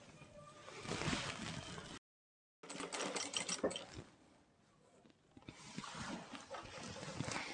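A sewing machine runs a firm permanent stitch over gathered palazzo fabric, a steady whirring burst that stops briefly, restarts, fades, and then runs again, close and fairly loud with no voices.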